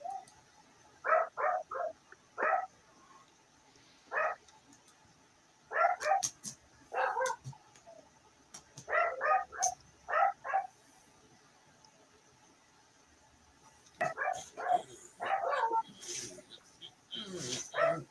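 A dog barks in repeated bursts of a few sharp woofs separated by pauses, heard at moderate distance in the background of a voice chat, with someone briefly speaking between barks.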